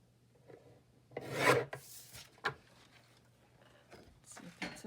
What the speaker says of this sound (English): I need to cut off about 1/8 of an inch